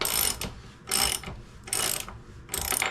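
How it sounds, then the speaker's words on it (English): A ratchet wrench loosening the rear axle nut on a Zero FX electric dirt bike, four loud rasping bursts of rapid pawl clicks in a steady back-and-forth rhythm, close up. "I'm just going to loosen this axle nut now."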